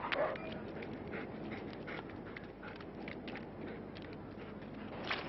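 A dog in a French training club during attack training, heard as faint, intermittent panting and scuffling movement at a distance, low in level with no clear barking.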